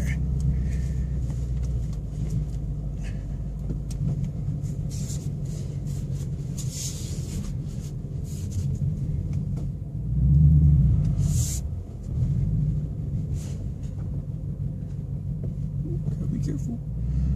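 Deep, steady exhaust rumble from a 2015 Mustang GT with Magnaflow exhaust and X-pipe rolling slowly, swelling briefly louder midway before settling back to a low throaty drone.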